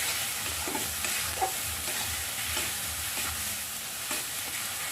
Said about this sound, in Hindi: अब मैं सबको फ्राई करूँगी 2-3 मिनट तक